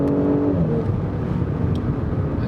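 An Audi S4 sedan's V6 engine and exhaust rumble loudly during a manual gear shift, a brief higher note dropping away into a steady deep drone.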